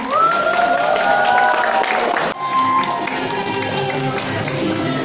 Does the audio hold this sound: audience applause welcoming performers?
yes